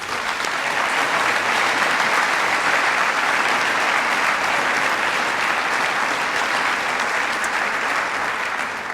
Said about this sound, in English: have one more round of applause for all of our recipients.